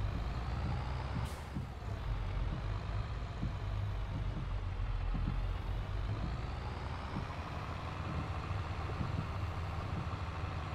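A truck in Farming Simulator 22 backs up slowly on a farm road, its engine rumbling low and steady with a brief air-brake hiss and intermittent reversing beeps, no voices.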